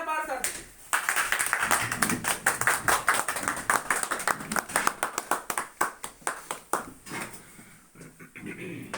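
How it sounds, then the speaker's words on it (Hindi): An audience claps to welcome a speaker onto a stage at a training event, a burst of quick, uneven hand claps that thins toward the end, with a voice talking over it. "आप सभी लोग अपने सीट से खड़े होकर के सर के सम्मान में जोरदार तालियां बजाएं"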